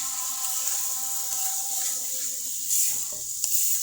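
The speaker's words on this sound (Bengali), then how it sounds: "মশলা কষাচ্ছি" Spices for a goat meat curry fry and sizzle in a pan, a steady close hiss with occasional stirring scrapes and a brief louder burst near the end.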